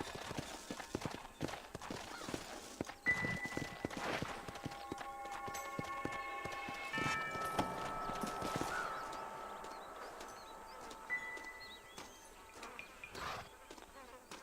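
Horse hooves clip-clop at a walk in the Red Dead Redemption western video game, a soft steady rhythm beneath ambient game sounds, insect buzzing and scattered tonal music cues, moderately distant.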